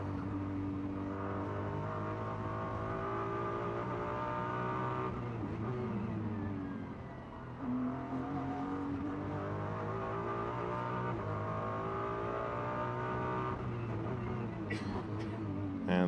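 Ferrari race car engine at the Macau Grand Prix street circuit, a loud sustained high-pitched wail that rises and falls through gear changes as it climbs toward Donna Maria, heard at close range under race commentary.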